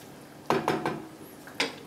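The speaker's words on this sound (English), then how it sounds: "Stir it one more time." A spoon scrapes and knocks around a pot of chicken soup with parsley, giving a few quick clinks close by in two short bursts, with no talking.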